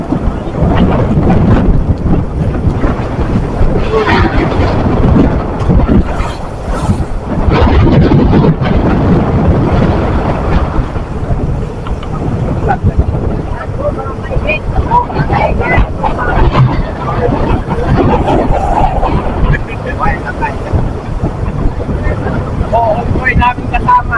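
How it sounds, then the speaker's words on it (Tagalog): Strong typhoon wind roars loudly and continuously, buffeting the microphone with heavy low rumbling gusts, while people speak faintly beneath it. "At lakas ng hangin."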